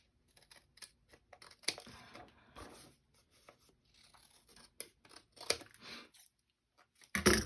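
Scissors trim and round the corners of paper for a journal, giving a series of close, crisp snips and crunching cuts with brief pauses, quiet and without talking.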